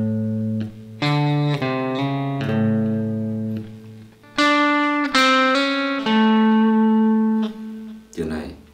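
Electric guitar plays a pentatonic solo line with a hammer-on, single notes picked cleanly in short phrases with brief pauses between them, close and clear with no talking.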